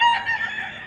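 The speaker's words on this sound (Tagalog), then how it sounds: "Ayan mga manok ni Boss Ja" A gamecock offered for sale at a market in Bocaue gives a brief, loud, close crow fragment, heard alone.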